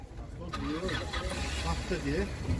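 Car with a 1.8 petrol engine running on gas, a low idling rumble close by beneath someone speaking continuously over it.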